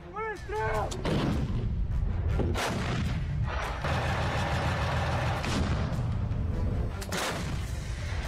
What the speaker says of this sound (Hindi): परमाणु बम गिराने वाली रूस की ये तोप कैसे आग उगलती है, इसे देख लीजिए।